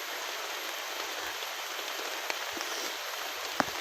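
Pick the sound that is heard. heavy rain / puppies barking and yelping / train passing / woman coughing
heavy rain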